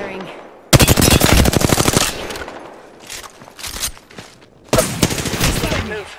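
Automatic weapon fire in the Apex Legends video game, loud rapid bursts up close, a long volley, then scattered shots and another sustained burst, with speech-like sound in the game audio.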